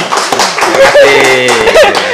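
A few people clap briefly to welcome a guest in a talk-show style podcast studio, the hand claps close and short, mixed with chatter and light laughter.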